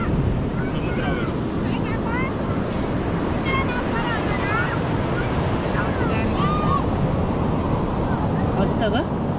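Surf breaking at Kondura Beach near Vengurla, Maharashtra, a steady loud wash of waves with wind buffeting the microphone throughout, and faint birdlike chirps scattered above.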